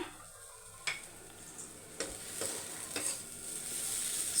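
Green beans stir-frying with chili powder in a pan, a soft steady sizzle with a few sharp spatula scrapes and taps against the pan, fairly quiet and with no talking.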